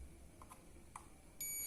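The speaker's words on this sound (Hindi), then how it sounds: "देखिए बीप की आवाज देता है।" A multimeter on continuity mode tests a diode in an LED/LCD TV power supply and gives a steady electronic beep that starts abruptly near the end and holds over quiet room noise, with a few faint clicks before it.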